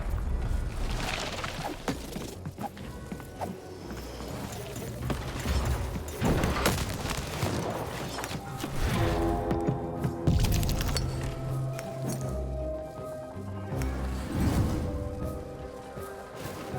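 Cannon fire in the video game Lost in Random, heavy booming blasts and cracking impacts layered over clattering mechanisms and game music, loud and repeated across the stretch.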